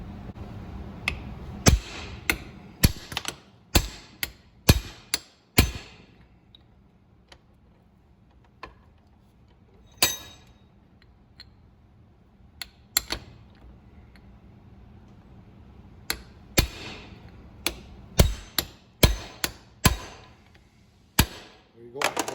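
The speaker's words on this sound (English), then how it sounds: "And then we hammer here, and this will pop out" Sharp metallic hammer blows knock out the U-joint on a 2008 Toyota Tacoma driveshaft, coming in irregular bursts of several strikes separated by quieter pauses and faint shop background.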